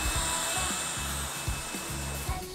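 A household vacuum cleaner runs steadily and loudly at close range, with a continuous whirring drone and brief bumps as it moves.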